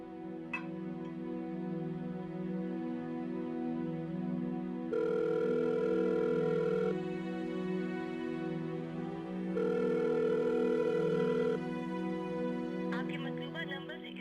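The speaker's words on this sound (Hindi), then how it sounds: "रिजवान भी फोन नहीं उठा रहा मेरा।" Quiet steady hum with two long electronic ringback tones of an unanswered phone call, each lasting about two seconds, repeating at a regular interval.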